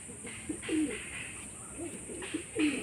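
Low rolling coos from Madras pigeons kept at home, several short calls repeated at close range, with no voices present.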